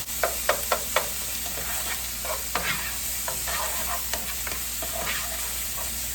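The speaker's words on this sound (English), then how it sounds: "So now we're going to let that saute for just a couple minutes" Vegetables sauté in a pan for a gluten-free sausage and rice casserole, giving a steady sizzle broken by several sharp clinks and scrapes of a utensil stirring, loudest early on.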